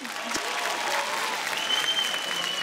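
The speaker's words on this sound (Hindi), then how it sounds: "जोरदार तालियां हो जाए 3G के लिए।" A television show audience in an Indian studio breaks into loud, sustained applause, a dense wash of clapping hands holding steady throughout.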